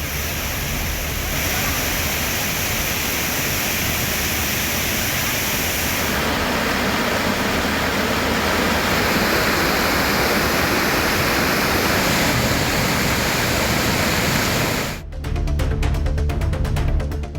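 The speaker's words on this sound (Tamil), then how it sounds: "திருப்பரப்பு அருவியில் தண்ணீர் ஆர்ப்பரித்து வெள்ளப்பெருக்கு ஏற்பட்டுள்ளது" Floodwater roars over the swollen Thirparappu waterfall, a dense, steady broadband rush that holds loud and unbroken throughout, with a brief dip and harsher spray-like texture near the end.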